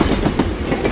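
A train passing close by, a steady heavy rumble with a rhythmic clickety-clack of wheels on rail joints throughout, loud and with no voices.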